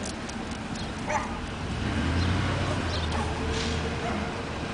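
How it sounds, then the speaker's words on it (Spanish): Loose dogs in a neighborhood of mobile and prefabricated homes in the USA bark and yip intermittently at moderate distance over a steady low rumble, with a few sharp barks and whimpers scattered across the stretch. "Hay un montón de perros sueltos."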